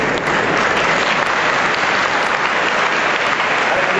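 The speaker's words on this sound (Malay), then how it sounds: "saya minta semua anak-anak murid berdiri untuk memberikan tepukan gemuruh kepada guru-guru kita" Thunderous applause from standing schoolchildren honouring their teachers on Teachers' Day, a dense, loud, continuous roar of clapping filling the hall without talk.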